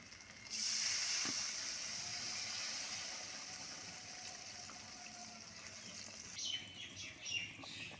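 Water is poured into a hot pan of spiced potatoes for a pangas fish curry, bursting into a loud, steady hiss and gush that slowly eases, with a few faint clinks near the end.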